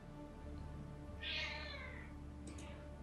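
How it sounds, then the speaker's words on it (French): A pet cat meows once, clear and fairly close, over a low steady background hum in a quiet room during a late-night online game session. "C'était mon chat."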